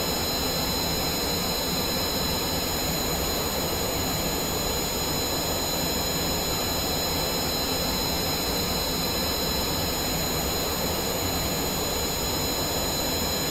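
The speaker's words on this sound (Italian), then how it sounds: "Questi motori fanno un casino tremendo." Rocket engines roar in a Kerbal Space Program descent toward landing, a loud, steady, unbroken blast with a high whine riding on top, filling the whole stretch with no talk.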